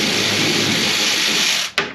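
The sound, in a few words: power tool removing rusty tail light screws on 2003 Ford F350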